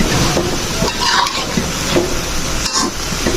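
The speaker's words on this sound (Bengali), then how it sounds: "আমি এখন সুন্দর করে মশলাটার সাথে মিশিয়ে নিচ্ছি" Mango pickle being stirred and mixed with a spice blend of white and black mustard, a steady close scraping and shuffling of the mixture in a pan with occasional spoon knocks, no talking.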